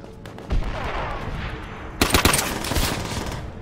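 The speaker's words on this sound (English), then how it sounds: "Our artillery will shake them up." Rapid gunfire and artillery in a Call of Duty match, a bursty fusillade that turns into dense, loud volleys after a couple of seconds, with no speech.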